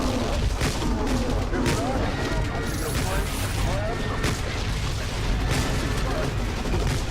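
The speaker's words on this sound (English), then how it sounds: "Throwing grenade." Grenade blast and heavy gunfire in a military shooter video game, dense continuous booms and rattling bursts throughout, with low background noise and no clear standalone explosion.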